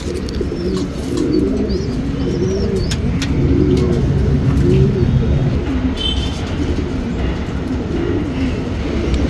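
Patta pigeons, a flying breed, coo in a steady low run of soft repeated calls, with a continuous rumbling background throughout and no talk.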